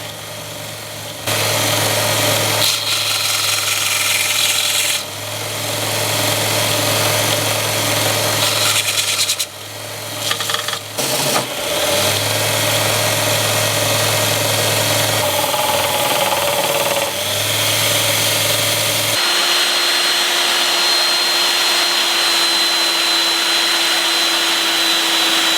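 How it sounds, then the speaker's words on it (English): A loud sander drones steadily as it grinds the tang profile of a handmade bushcraft knife, its pitch rising and falling as it works, briefly cutting out twice before settling into a higher, steadier whine. "all I need to do is start roughing out the shape and fine tuning to the profile of the tang"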